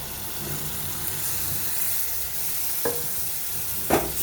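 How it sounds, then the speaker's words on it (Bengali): Ground spice masala fries in a pan, a quiet, steady low sizzle with two brief stirring clacks near the end and no voices. "এবারে আমি এই মশলাটাকে ভালো করে কষে নেব"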